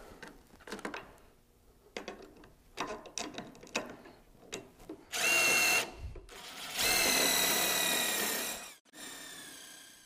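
A power driver sets beam-to-post fasteners on a pergola: scattered handling clicks and taps, then two long whirring bursts of the motor as the screws are driven, the second one sustained, followed by a brief softer run.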